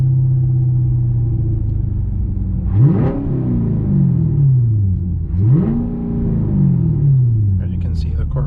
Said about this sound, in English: So just giving you an engine note with the revs here.